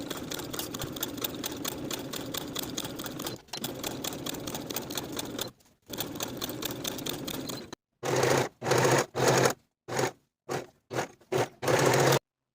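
A domestic sewing machine hums in long runs as it stitches pant front yoke and pocket pieces to pocket linings along the curves, then shifts to short bursts separated by pauses, all heard close up.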